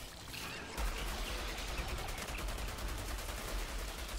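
Rapid, continuous rifle fire from the Outriders video game during a Molten Acari boss fight, a dense rattling volley that starts abruptly and keeps going at steady loudness.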